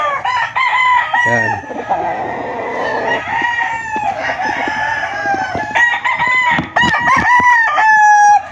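White Kelso gamefowl roosters crow repeatedly in a coop, loud and close, with overlapping calls and some clucking around them, while a voice speaks briefly.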